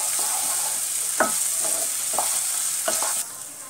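Kakrol bharta mixture frying in oil on high flame, stirred continuously, giving a loud, close hissing sizzle broken by several distinct scraping strokes of the spoon, with no talking.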